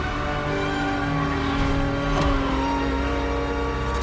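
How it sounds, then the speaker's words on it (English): A Ferrari F50's naturally aspirated Formula One-derived V12 holds a loud, steady rev in a racing game, its rich harmonic drone rising slightly in pitch near the middle of the stretch before settling again. "The F-50's core is a normally aspirated V12 that came straight from a Formula One"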